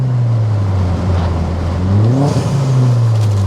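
A 310-horsepower Vauxhall Astra GSi engine pulls hard under acceleration, its steady drone climbing in pitch as it revs up near and loud, then holding high through the end, with no talk.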